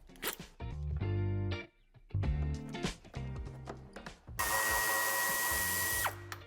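A power tool whirs in short bursts while removing bumper screws on a Mercedes-Benz Citan 2021, with close, loud spurts of the drill separated by brief pauses and then one longer steady run.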